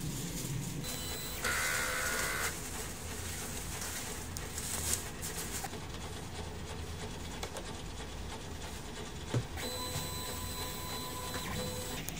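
A DTF printer prints a nozzle check, its print head carriage running with a steady mechanical whir and periodic shuttling passes, faint clicks and whines over a constant hum, fairly close and with no talking.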